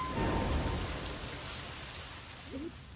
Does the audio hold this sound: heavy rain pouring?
yes